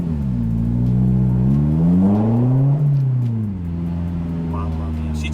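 A Honda S2000's naturally aspirated two-litre engine revs up and down nearby, its smooth pitch climbing high before dropping back to a steady idle.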